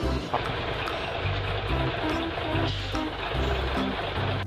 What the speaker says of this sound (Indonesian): mobil dump truck teman-teman